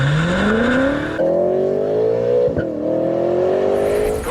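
A BMW M6 engine in its aggressive M mode revs hard and close by, its pitch climbing through a gear, dipping at a quick shift, then pulling upward again loud and alone.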